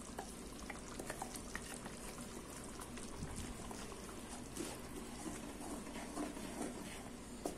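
Ground masala paste poured into simmering roadside-style chicken salna gravy, giving a steady bubbling, sizzling and stirring texture that runs close and continuous throughout, with no talk over it.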